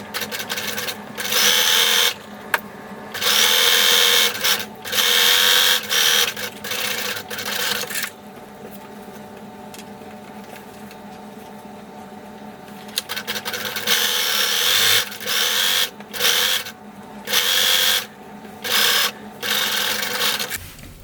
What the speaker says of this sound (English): As you're sewing, make sure that your other piece is not in the way